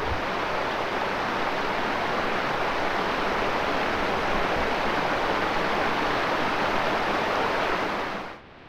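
Small stream of water flowing into a little wetland at a Vermont state park campground, a steady, loud, broadband rush that continues without a break before cutting off abruptly near the end.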